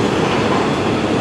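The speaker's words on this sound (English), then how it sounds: "The train's speeding up, the end's coming" A CN E271 freight train rolls past in Kimball Township, Michigan, gathering speed near its end, a loud, continuous rumble of wheels and cars close by, with no voices.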